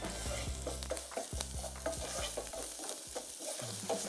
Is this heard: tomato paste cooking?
yes